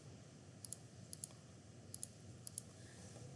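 Calculator keys pressed to enter tangent of 40 in degree mode: about four pairs of sharp, light clicks in an irregular rhythm, close and clear over a steady low background hiss.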